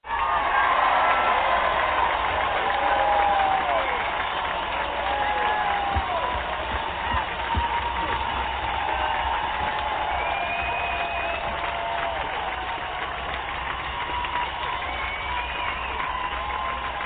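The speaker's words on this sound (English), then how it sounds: "give yourselves a round of applause for listening" Applause and cheering from a crowd at the close of a DJ show, a steady wash of clapping with scattered whoops running throughout, fairly loud and unbroken.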